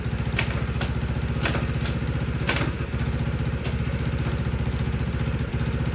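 Honda CT70 minibike with a semi-automatic engine running steadily, a loud close chugging idle with a busy mechanical clatter and a few faint ticks over the top, no talk.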